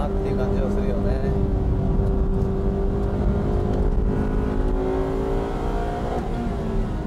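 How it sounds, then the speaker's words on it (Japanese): A Honda Integra R or Civic R VTEC engine holds a loud, sustained high-rev roar, heard from inside the car as it drives. The engine tone stays steady with slight pitch shifts throughout. "VTEC いい音だな"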